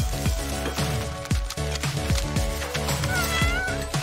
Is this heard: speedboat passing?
no